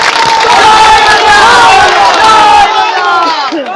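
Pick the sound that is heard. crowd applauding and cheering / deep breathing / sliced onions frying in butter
crowd applauding and cheering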